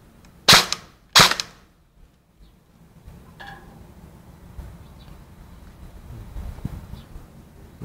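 A stubby ABS airsoft gun fires two sharp, loud snapping shots in quick succession, then a quiet stretch with faint background noise.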